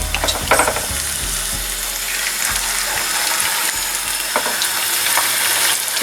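Köfte meatballs fry in hot oil in a pan, a loud dense close sizzle with a flurry of clattering knocks at the start and scattered taps as they settle.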